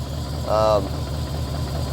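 A BMW E34 540i's M60B40 V8 idles with a cylinder misfire, giving a steady low rumble with faint uneven pulsing; a voice cuts in briefly over it.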